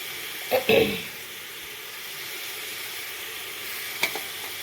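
Kasuri methi frying in a pan of spiced pulao masala, a steady close sizzle running throughout with a few brief scraping stirs near the start and end.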